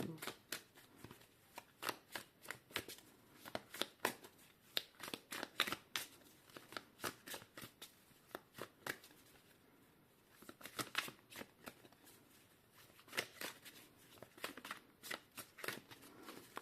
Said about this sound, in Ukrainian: Так, давайте ми витягнемо три карти